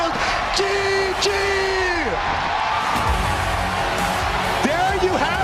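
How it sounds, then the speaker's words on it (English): A live esports crowd at the HGC Fall Championship 2016 Heroes of the Storm semifinal roars and cheers wildly after Fnatic wins a game. Whoops and yells fill a continuous loud din while a voice talks over it. "The crowd goes wild."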